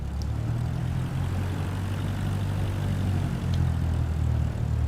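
A propeller airplane engine drones steadily and loudly in Microsoft Flight Simulator 2024, a constant low-pitched roar with no break.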